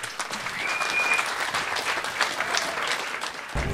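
Sustained applause from an audience at a world music semifinal talent show for a Romani band, dense clapping continuing steadily throughout and near to the listener.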